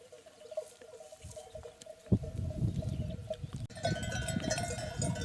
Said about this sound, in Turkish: Koyun sürüye geldi.